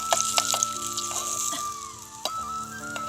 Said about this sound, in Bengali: বেগুনটা ভেজে নেই এখন।